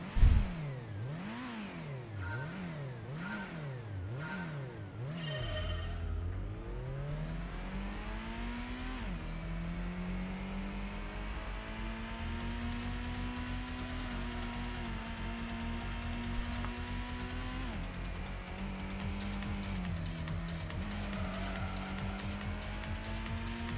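Simulated car engine in Gran Turismo revving up and down through repeated gear shifts, then holding a steady climbing drone at high revs, with a brief tire squeal, loud and continuous throughout.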